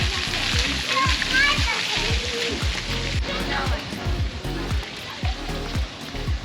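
Children splash and play in a shallow water play area beside an outdoor park pool, with busy splashing and spattering throughout and kids' voices and chatter mixed in nearby.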